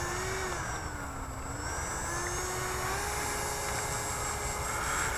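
A Freewing F9 Panther RC jet flying at full throttle on a morning flight, a steady whining ducted-fan tone shifting slightly in pitch over close outdoor wind noise, no talk.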